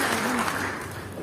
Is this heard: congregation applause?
yes